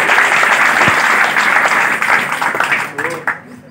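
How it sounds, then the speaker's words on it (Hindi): Applause from students at a Class 12 farewell party in a coaching centre, a dense steady clapping from a seated group that carries on for several seconds before thinning out, with voices mixed in underneath. "तालियां"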